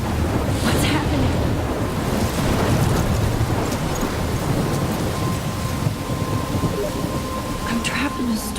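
A thunderstorm rages in the video game Life Is Strange, with heavy rain, wind buffeting and rolling thunder. The roar stays loud and dense throughout, and no voices cut through it.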